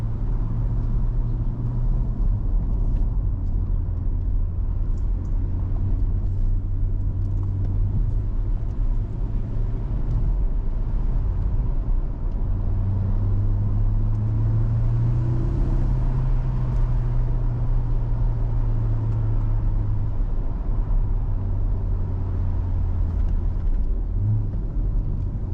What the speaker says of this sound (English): you're just driving through these old, historic, you know, British villages in the middle of nowhere in a C8 Corvette.